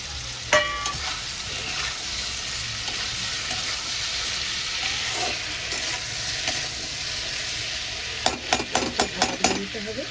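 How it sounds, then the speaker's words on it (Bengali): Potatoes frying with softened tomatoes in a pan for a chickpea curry: a steady, close sizzle runs throughout, ending in a quick burst of metallic scraping and clinking as the spatula stirs. "আলুগুলো ভালো করে ফ্রাই করে নেব"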